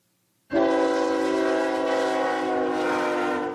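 A 2,700 horsepower diesel-electric freight locomotive sounds a loud, sustained multi-tone horn chord that starts abruptly and holds steady for about three seconds, close and alone.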